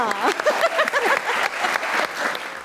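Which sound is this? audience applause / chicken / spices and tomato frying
audience applause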